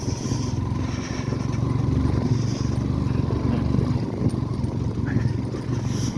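A motorbike rides a cold, frosty rural mountain road in Panchthar, Nepal, between Chyangthapu and Chiba Bhanjyang; a steady low engine drone runs throughout at close range with road and wind noise.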